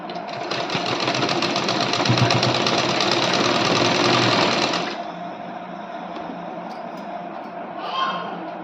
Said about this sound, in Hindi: हम इसको सीधा सीधा सिल देंगे